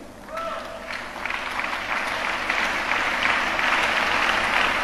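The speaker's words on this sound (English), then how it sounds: "Let us give a round of applause as we welcome his beloved wife" An audience at a church tribute service breaks into applause, a dense wash of many hands clapping that builds over a few seconds and stays steady and full under a faint low hum.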